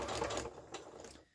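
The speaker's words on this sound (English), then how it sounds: "I'm going to back stitch all the way off the edge of the fabric and then back on." A sewing machine back-stitches plain weave fabric made with knitting yarn, giving a brief, quiet, steady mechanical whir and buzz that fades toward the end, heard alone without talk.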